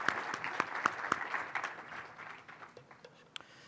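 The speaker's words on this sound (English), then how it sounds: "I want to give her a big round of applause here." Audience applause at a chamber of commerce community event, sharp, distinct claps at first that gradually thin out and fade over a few seconds.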